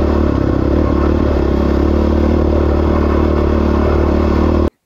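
A dirt bike rides at night during Baja 1000 pre-running, its engine a loud, continuous drone mixed with rattling clatter and wind. The noise stays steady throughout and then stops abruptly at the end.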